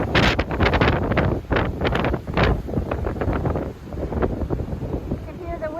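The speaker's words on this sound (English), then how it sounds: "You can hear the wind." Strong wind buffets the microphone on snowy Roan Mountain along the Appalachian Trail, a steady roaring gusty rush throughout, with a voice speaking over it.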